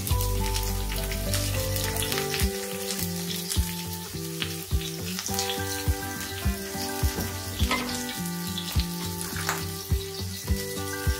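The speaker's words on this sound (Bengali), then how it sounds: "আমি দিয়ে দিলাম তেল বরাবরের মতো, অল্প তেল, জিরা, একটা আস্ত শুকনো মরিচ দিলাম, পেঁয়াজ কুচি করে দিলাম" Chopped onion, cumin seeds and a whole dried chili sizzle in a little hot oil, a steady close crackle broken by regular sharp knocks of a spoon stirring against the pan.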